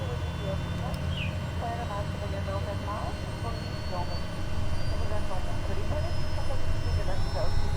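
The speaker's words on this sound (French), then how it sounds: "Moteur démarré." A Daher Kodiak 100 turboprop engine starts and runs up in Microsoft Flight Simulator, a steady droning hum with a rising whine that grows louder in the second half, under faint cockpit tones.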